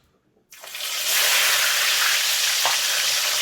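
Stockfish dropped into hot oil bursts into a loud, steady sizzle that swells quickly after a quiet start and keeps crackling close up, with no talking.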